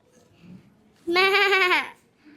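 A child in a school performance imitates a sheep with a single loud, sustained bleat lasting nearly a second, heard close against a quiet hall background.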